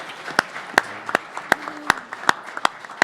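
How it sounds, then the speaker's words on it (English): At a boxing fan Q&A, a few people in the audience clap in sharp, evenly spaced beats that ring out over a soft room murmur, close and fairly loud. "So give her a round of applause for that."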